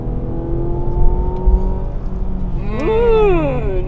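Mazda CX-80 engine pulling hard in sport mode, a steady droning hum that rises into a strong climbing revving sweep near the end, heard from inside the cabin.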